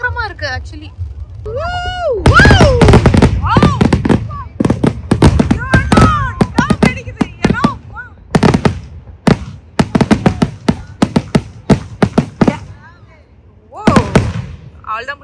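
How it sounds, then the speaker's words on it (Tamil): Fireworks burst repeatedly at a Diwali street festival in America, loud sharp cracks and booms in quick irregular volleys, close by, with people talking excitedly throughout. "நாங்கள் இந்த ஃபயர் ஒர்க்ஸ் என்ஜாய் பண்ணிட்டு நம்ம வீட்டுக்கு கிளம்பலாம்"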